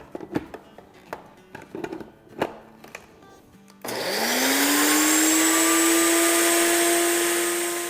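An electric grinder whirs loudly as it powders a tablespoon of roasted chickpeas and a tablespoon of poppy seeds. A few kitchen clatters come first, then the motor spins up and holds a steady, high whine.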